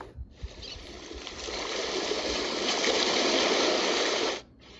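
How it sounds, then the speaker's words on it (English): An OnLyee portable white noise machine plays an ocean waves track, a broad rushing wash that swells in over about four seconds and then stops abruptly, standing alone with no voices. "This is gonna be ocean waves,"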